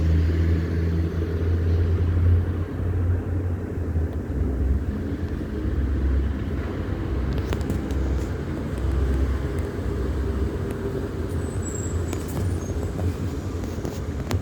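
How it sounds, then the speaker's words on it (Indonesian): Steady road traffic of cars, minibuses (mikrolet), buses and bajaj auto-rickshaws passing below a house, a continuous low rumble of engines throughout with no clear pauses. "Mobil, mikrolet atau bis atau bajai."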